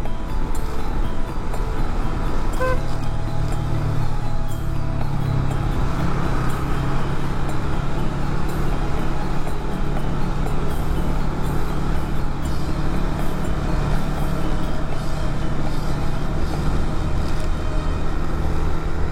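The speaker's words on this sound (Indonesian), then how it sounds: "Nah itu tuh banyak truk-truk tuh." Heavy trucks rumbling along the Pantura coastal highway at night in Pemalang, Central Java, a steady loud low engine and tyre drone that continues throughout with no clear pauses.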